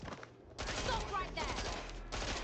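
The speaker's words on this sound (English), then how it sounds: "Shots fired! Shots fired!" Gunfire in the video game Watch Dogs Legion: rapid automatic bursts in two dense stretches separated by brief pauses, loud and close, with game ambience underneath.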